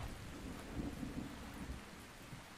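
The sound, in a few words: rain and thunder in video game ARK: Survival Ascended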